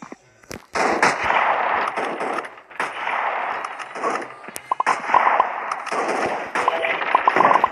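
Bursts of gunfire from a new weapon in a sniper survival video game, repeated shots and rapid volleys filling most of the stretch, loud and close with short gaps between.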